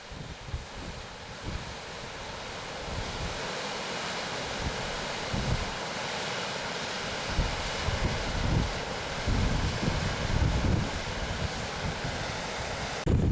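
A large waterfall on a Lake District walk near Borrowdale, a steady broadband roar of rushing water close by, continuous and loud with some wind buffeting on the microphone, no voices.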